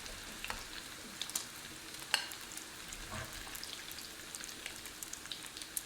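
Bacon frying in a pan gives a soft, steady sizzle with scattered small pops and crackles throughout, fairly quiet and alone.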